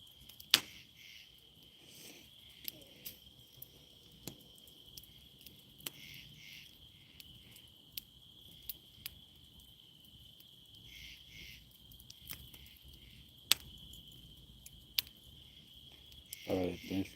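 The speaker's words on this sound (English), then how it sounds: "Those cicadas are starting to come out now." Cicadas buzz in a steady high drone on an autumn evening at a homestead bonfire, with a few sharp clicks and crackles scattered throughout and a brief louder rustle near the end.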